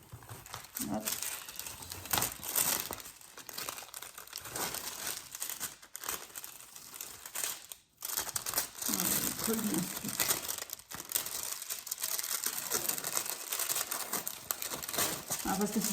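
A very thin sheet of paper is peeled away and crumpled while a diamond-painting canvas is prepared, giving steady close crinkling and rustling with a few short pauses and faint voice sounds in places.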